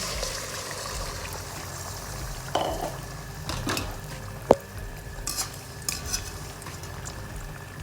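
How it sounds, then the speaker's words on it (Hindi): Chicken fries in a cup of hot oil in a kadhai, a soft continuous sizzle with occasional stirring scrapes and one sharp clink of a utensil against the pan. It stays fairly quiet, with no voices. "1 कप ऑयल मैंने कढ़ाई में डाल दिया है। गर्म होने पे मैं इसमें चिकन डाल दूँगी।"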